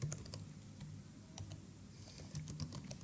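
Steady close typing on a computer keyboard while writing HTML and CSS code, a continuous patter of soft key clicks with a low hum underneath.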